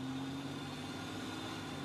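A car engine hums with a steady, even drone, close and continuous with no voices.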